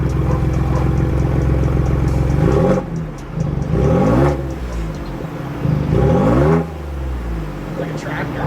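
A 2022 Ford Bronco twin-turbo V6 with an electric exhaust cutout, a deep, loud, close engine note that idles then swells in several revving bursts, with people talking over it.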